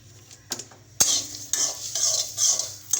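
Chopped chili, garlic and onion hit hot oil in a wok-style pan, bursting into a loud sizzle with sharp utensil scrapes and clinks as they are stirred, close and without talk.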